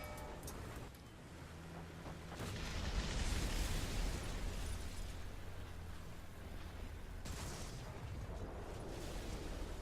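A KV-1B 756(r) tank in War Thunder fires its cannon with a heavy boom, followed by a long rumbling roar of engine and battle noise that swells and then settles into a steady low drone.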